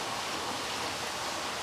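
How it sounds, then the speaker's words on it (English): Steady rain falls in Chicago, a dense even hiss of drops with no voices, unchanging throughout. "The rain is coming down,"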